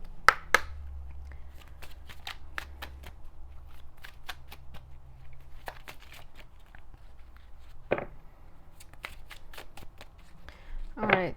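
Oracle cards being shuffled by hand, soft repeated flicks and riffles spread through a quiet room, close and light, with a louder burst of shuffling near the end.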